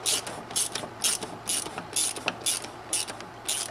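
A hand ratchet snugging the oil filter housing bolts on a BMW N55 engine, making quick, close, evenly repeated clicking bursts in a steady rhythm, with no one talking.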